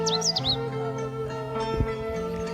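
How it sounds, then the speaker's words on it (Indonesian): Birds chirp and tweet in a few quick high calls near the start, over a steady background hum of morning village ambience in Indonesia. "Tuh, banyak kicau burung"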